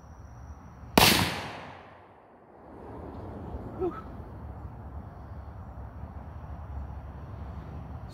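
A single heavy gunshot from a Lipsey's exclusive BFR revolver chambered in 500 Magnum booms out at an outdoor range, followed by a long rolling echo that fades under steady wind noise.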